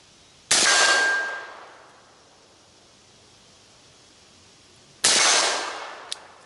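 Two loud rifle shots fired outdoors, about four and a half seconds apart, each a sharp crack followed by a long rolling echo that fades away.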